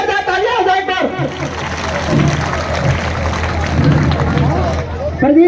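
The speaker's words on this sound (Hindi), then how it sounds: "जोरदार तालियां हो जाए" A village crowd at a welcome ceremony for a world boxing champion breaks into loud applause, rough clapping mixed with crowd babble and cheering, with voices talking over it.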